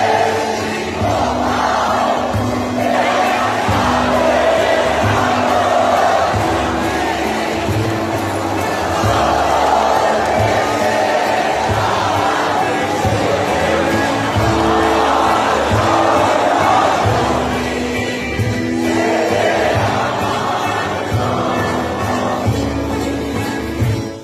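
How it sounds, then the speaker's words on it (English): A vast crowd of protesters fills the streets, a loud continuous roar of cheering and shouting that swells and surges throughout. "hundreds of thousands of people poured into the streets, waving flags and cheering to celebrate her resignation."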